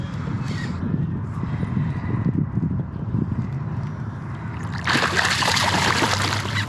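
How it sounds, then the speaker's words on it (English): A large snapping turtle hooked on a fishing line thrashes beside a kayak, its splashing rising into a loud, sustained burst of churning water over a steady low background rumble. "he is upset. He's splashing everywhere."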